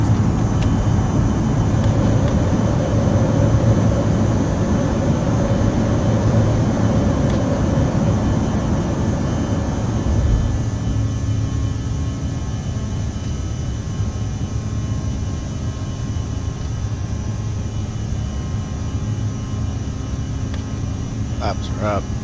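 A CRJ 900 regional jet's engines roar loudly as it climbs after gear retraction, then settle to a steadier, quieter cabin drone.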